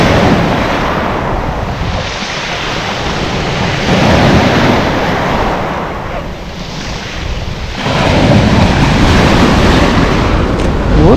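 Wind blows steadily by the sea at Lazarevskoye, a loud, continuous broadband rush with surf-like swells rising and falling throughout, no voices.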